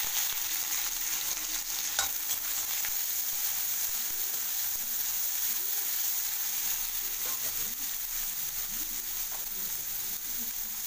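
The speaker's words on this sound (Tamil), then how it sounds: "எண்ணெய் காஞ்சிச்சு, கடுகு போட்டுக்கலாம். வெங்காயம் கருவேப்பிலை போட்டுக்கலாம்." Onion and curry leaves fry in hot oil with mustard seeds, giving a steady, close sizzle that runs unbroken throughout, with faint stirring and a few small pops and clicks on top.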